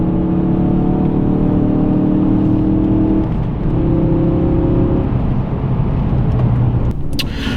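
A car lapping the Silverstone race circuit on Michelin track tyres, its engine a loud steady drone heard from inside the cabin, with the pitch shifting as it accelerates and eases off.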